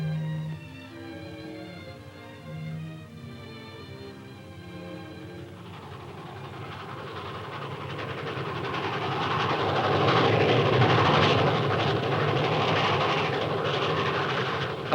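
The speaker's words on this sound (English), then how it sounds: "the speed, the length, the power of a train were always exciting" Passing train with a rushing, rumbling roar that swells to its loudest midway and stays heavy, from an archival 1945 rural Alabama recording. Soft music plays at the start.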